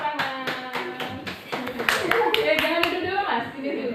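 Students in a classroom clap their hands in quick, loud rhythmic bursts, a tight group of claps repeating several times at close range, with children's voices mixed in.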